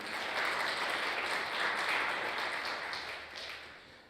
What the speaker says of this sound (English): Please give yourselves a round of applause for coming.